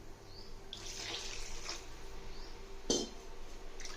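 Water pours from a tap into a cooking pot while making a Sunday-special country chicken (natukodi) curry, a steady close splashing stream with a brief louder splash near the end.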